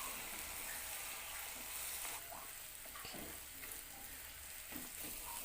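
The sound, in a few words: beaten eggs frying and being stirred into scrambled eggs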